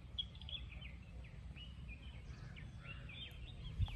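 Evening birdsong beside a river, several small birds chirping and twittering at a distance in quick, scattered bursts over a constant low outdoor hum.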